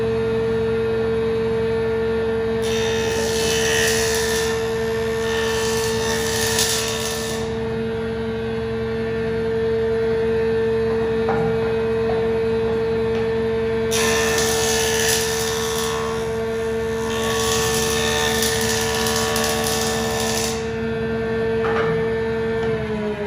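A power woodworking cutter flattens a board with light passes while a vacuum draws off the chips. Over a constant motor hum, two bursts of cutting noise sound, each lasting a few seconds and separated by a long gap, with no talking.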